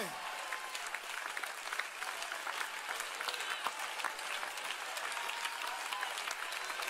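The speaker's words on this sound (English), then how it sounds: "those who are clapping, you are coming out of poverty" A church congregation claps steadily at a sermon, a dense continuous patter of many hands, moderately faint and heard from within the hall, with a voice speaking faintly underneath.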